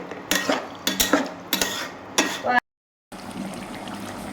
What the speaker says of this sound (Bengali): মুরগিতে আলুগুলো দিয়ে দিলাম একটু পানি আছে এরপরে সিদ্ধ হবে